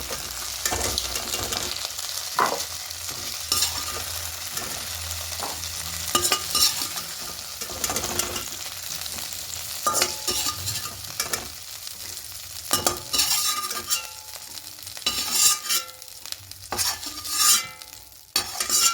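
Potatoes for a vegetarian aloo paneer sizzle steadily in oil on lowered heat while a spatula stirs and scrapes the pan in repeated close strokes.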